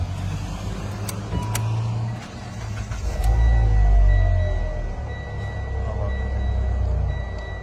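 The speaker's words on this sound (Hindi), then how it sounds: "ओके, स्टार्ट करो गाड़ी।" A 2016 car with ABS warning lights and a front left wheel speed sensor fault is cranked and fires up partway through, settling into a loud, steady idle with a faint high whine, with no talking.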